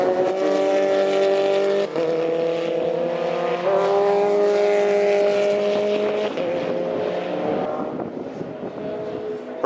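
A Formula 4 race car on a new set of tyres pulls out onto the Snetterton track at an official test day. Its engine note is loud and steady, the pitch stepping up through the gears and falling off as the car moves away.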